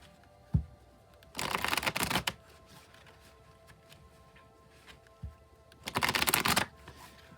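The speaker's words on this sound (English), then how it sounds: "I'll shuffle till the deck feels ready" Two bursts of a tarot deck being riffle-shuffled, each about a second long, with a soft tap before each and quiet between.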